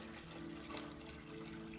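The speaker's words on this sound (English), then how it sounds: "for today I'm just gonna pour some water in there" Water poured into the reservoir of a Keurig K-50 coffee maker, a steady, close trickling stream running without pause.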